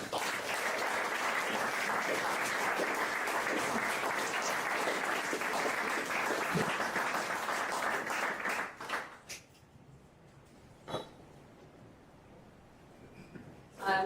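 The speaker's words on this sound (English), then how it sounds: "if I can get a huge round of applause for our judges" A large audience at a Bristol startup pitch event gives the judges a sustained, dense round of applause for about nine seconds, then it quickly dies away into near quiet with a few faint scattered sounds.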